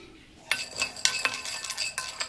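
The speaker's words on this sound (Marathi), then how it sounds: "त्याच्यामध्ये आपण शेंगदाणे भाजून घेणार आहोत।" Peanuts tossed in a hot kadhai (wok) while roasting, loose clinking and rattling scrapes against the metal in quick irregular bursts after a quiet start, close and fairly soft.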